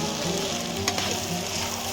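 Fried crab pieces tossed with chili powder and spices in a hot pan sizzle steadily, with a brief scrape of stirring near the middle, close and continuous with no talking.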